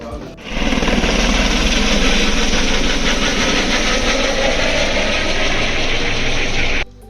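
A loud, steady mechanical roar with rapid pulsing vibration starts abruptly and holds close and constant for several seconds inside a helicopter cabin on the Mata Vaishno Devi pilgrimage route, then cuts off.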